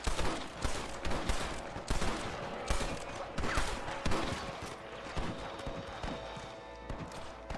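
A Red Dead Redemption shootout crackles with repeated gunshots at irregular intervals, some close and sharp, others farther off, over a busy background with hoofbeat-like thuds.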